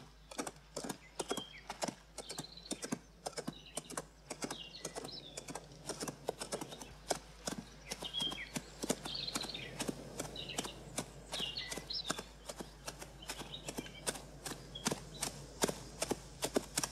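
A horse's hooves clip-clop at a steady walking rhythm throughout, moderately close and alone with no talk, set in a fantasy medieval film with a military general.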